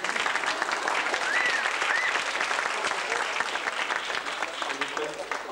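Steady audience applause at a school performance in a high school hall, a continuous wash of many hands clapping at moderate distance with a few faint whistles.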